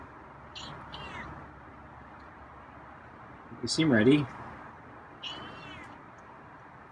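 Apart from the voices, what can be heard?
feral cat meowing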